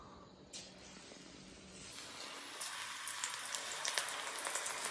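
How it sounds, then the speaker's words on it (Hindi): Pakoda fry in very hot oil, giving a close, continuous sizzling hiss with small crackles and pops that grows slightly louder toward the end. "गैस को कम किया जा रहा है क्योंकि यहाँ पे थोड़ा जो तेल है ना थोड़ा ज़्यादा गर्म हो गया है"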